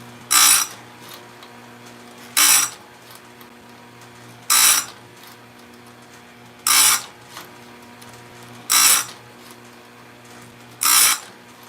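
Chainsaw chain sharpening machine grinding, six short bright bursts spaced about two seconds apart over a low steady motor hum, close by.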